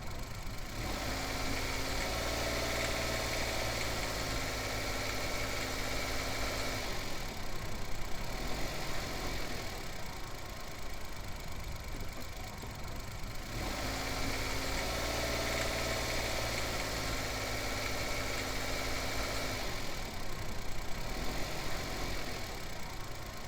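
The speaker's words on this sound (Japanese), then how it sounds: "エンジン音とは別のカラカラカラカラという音がする" Suzuki K6A engine, ten years old with 150,000 km, running under load with a steady close hum, joined by a separate rapid rattling that rises and falls in two matching waves.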